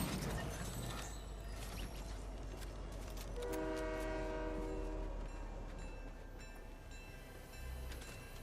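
A train in a video game rumbles steadily, its horn sounding a sustained multi-tone blast partway through over continuous rail noise, with no talk.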